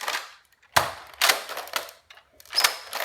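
Several sharp plastic clacks and snaps from a Nerf blaster being worked sound up close in quick separated bursts, with near-silence between them.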